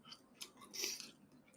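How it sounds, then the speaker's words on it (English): Gum being chewed close to the mouth, a few soft wet smacks and clicks spread over a second and a half, faint and alone with no talk. "I'm chewing gum."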